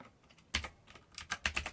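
Short bursts of keystrokes on a computer keyboard typing a search into a shopping site, a few quick clicks then a denser flurry of taps, fairly quiet and close with no talking.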